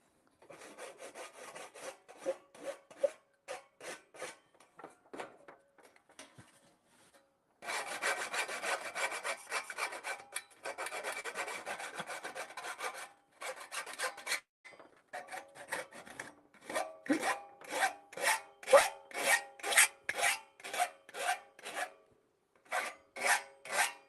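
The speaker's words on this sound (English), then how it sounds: "Could probably just do with a bit of sandpaper as well." Wood being worked by hand with sandpaper, giving repeated rough rasping strokes in rhythmic bursts with short pauses, loud and close, with no talking.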